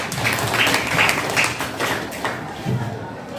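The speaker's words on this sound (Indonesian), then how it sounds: "Oke, kita beri aplaus dulu yang sudah bertanya." Students in a classroom give brief applause for a classmate who asked a question, a short patter of claps mixed with voices and room chatter.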